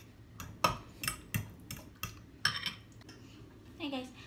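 Sardines being shifted with a utensil into a larger frying pan: a series of sharp metallic clinks and scrapes against the pan, roughly a dozen irregular knocks, fairly close, ending in a softer rattle.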